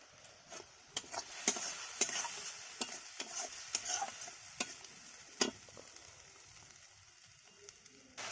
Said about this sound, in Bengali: পেঁয়াজটাকে ভালো করে কষা হয়ে গিয়েছে